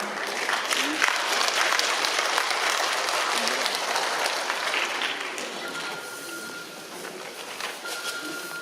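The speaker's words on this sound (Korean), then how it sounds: "여러분 큰 박수로 맞이해 주시겠습니다" Audience at a Pocheon city ceremony for the 47th Parents' Day applauds steadily, a dense, sustained wash of clapping that eases slightly toward the end, with a faint steady tone in the room.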